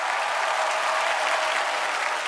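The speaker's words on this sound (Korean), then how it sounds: "어, 박수 한 번." A studio audience at a Korean TV music talk show claps in a steady, loud burst of applause, a full even wash of many hands with no talking over it.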